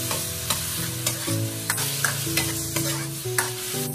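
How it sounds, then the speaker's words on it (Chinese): Garlic and scallions stir-fry in a hot wok, a steady close sizzle broken by regular scraping clinks of the spatula tossing them, with no voices. "炒出汁水后再下入蒜末葱花，再次一起翻炒，炒出香味"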